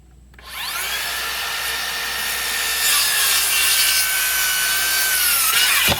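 A Makita 36-volt brushless cordless circular saw spins up and cuts through wood in one smooth, loud, continuous pass, with a steady whine that holds for several seconds before winding down.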